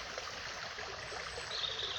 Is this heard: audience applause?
no